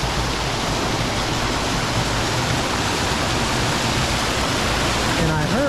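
Heavy, steady rush of water gushing from the outlet pipe at Gray Spring, a municipal drinking-water source said to put out about 10,000 gallons a minute, a dense continuous roar close by with no pause.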